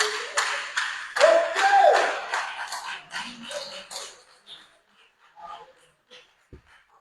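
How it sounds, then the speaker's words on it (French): Audience applause at a sermon, a burst of clapping from a crowd that swells, then thins into scattered claps and fades out. "Acclamez pour Mohamed."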